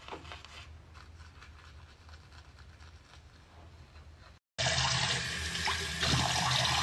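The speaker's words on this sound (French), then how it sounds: "Moi, j'ai directement rincé ma peau." Tap water runs as soapy skin is rinsed, starting as a soft steady trickle, then cutting out briefly and returning as a louder, fuller rush of water close by.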